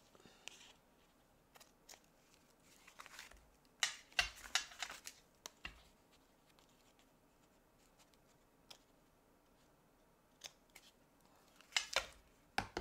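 Scissors trim cardstock for handmade cards in quiet, scattered snips, with clusters of sharp cuts in the middle and again near the end.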